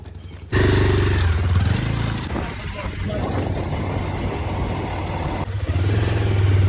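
A crowded river boat's engine starts with a sudden loud roar and keeps running, rising again toward the end while passengers talk over it.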